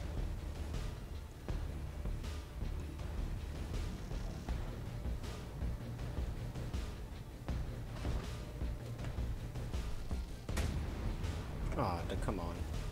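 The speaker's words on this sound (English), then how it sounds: "And I'm being shot." Artillery shells striking a warship in World of Warships, a dense run of booms and impacts under constant loud battle noise, with people talking over it throughout.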